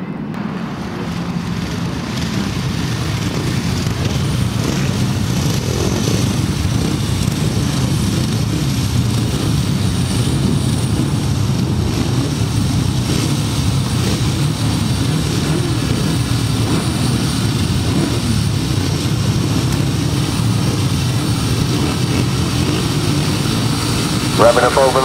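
Grasstrack racing motorcycles revving on the far side of an outdoor track before a race start, a loud continuous engine drone that swells in the first few seconds and then holds steady, with a voice talking over it.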